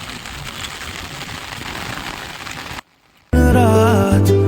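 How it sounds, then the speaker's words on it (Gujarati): Heavy rain pours down in a steady, dense hiss for a few seconds, then cuts off abruptly into a short silence before loud music begins. "ફૂલ વરસાદ આવી રહ્યો છે."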